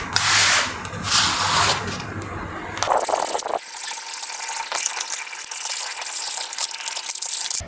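Scissors cut fabric for a ladies' shirt, making close, repeated crisp snips and rustling swishes in an uneven rhythm, with cloth shuffling between cuts and no talking.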